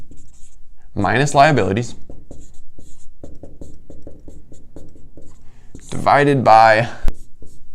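A pen writes out a formula by hand, giving soft, quick scratchy strokes close to the microphone, heard between and beneath stretches of speech.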